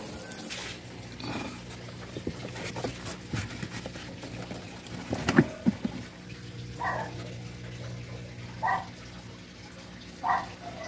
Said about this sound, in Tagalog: Labas yung tubig dito.